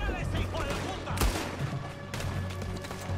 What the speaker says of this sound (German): Der kann auch nicht richtig schießen, weil er so wackelt.